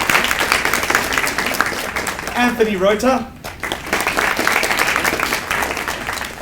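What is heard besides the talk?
audience applause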